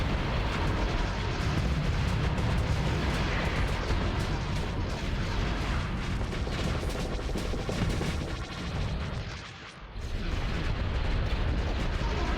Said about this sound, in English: my poor fighter's getting destroyed